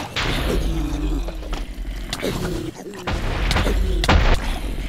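Explosions in a Minecraft Creeper Attack match on the Hypixel server, several booming thuds and crackling bursts scattered across the stretch over a low rumbling game background, loud and close.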